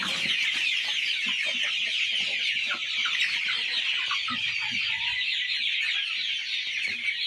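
Dense flock of broiler chickens on a poultry farm, a continuous chorus of clucking and chirping filling the shed, close and steady throughout with no voices.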